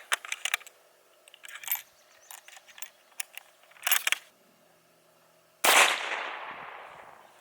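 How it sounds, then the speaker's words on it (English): A single .223/5.56 blank cartridge fired, one loud sharp report with a decaying echo tail, preceded by quiet mechanical clicks and handling of the gun. "So first up, we'll shoot the blank."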